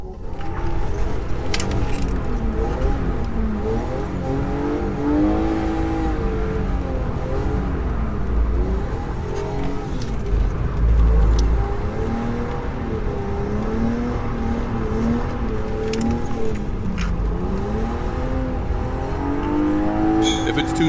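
BMW E36 or E46 drift car engine revving hard and shifting through first and second gear during a drift ride, loud and continuous with rising and falling revs, tire noise and voices talking over it.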